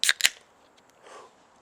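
A cold can of beer is cracked open, two sharp snaps close together and then a soft fizzing hiss.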